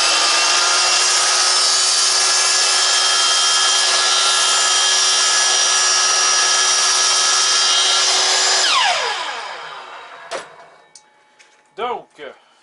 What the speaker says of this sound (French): Quand on coupe avec la scie à onglet, c'est important d'aller tranquillement